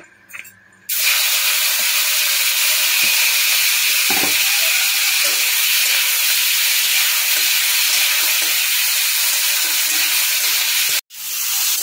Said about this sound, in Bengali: এবার চিংড়িগুলোকে হালকা করে ভেজে নেব।